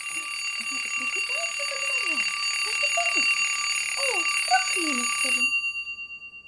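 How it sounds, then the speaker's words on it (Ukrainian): An alarm clock rings with a bright, steady electronic tone and a bouncy melody over it, then cuts off abruptly near the end. "Слухайте, здається, дзвонить будильник."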